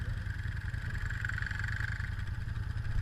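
An ATV engine runs on a snowy, icy winter trail, a steady, fairly close mid-pitched drone that holds constant throughout without pauses.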